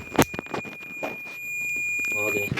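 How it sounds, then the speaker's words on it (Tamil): A multimeter in diode mode gives a steady continuity beep, with its black common probe wire under test for a broken pin connection. The tone holds through most of the clip, with someone speaking over it. "பீப் சவுண்டு அடிக்குது."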